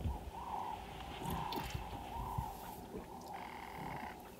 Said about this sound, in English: the doves are very active all around the waterhole